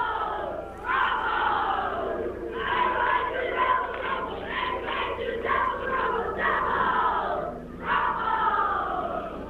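A crowd of schoolkids gathered at 6:30 in the morning for a TV station visit yells and cheers in rising, chant-like waves, loud and close, with brief dips between surges.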